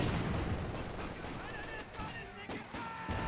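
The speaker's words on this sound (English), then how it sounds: "Mortar set on up, firing away." Mortar rounds fire amid scattered gunfire in a Company of Heroes 2 battle, a dense layer of combat noise with sharper reports near the middle and end, under a steady battlefield din.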